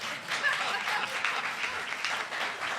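A live audience at a Pennsylvania governor's briefing applauds, giving steady, moderately distant clapping throughout with no pauses.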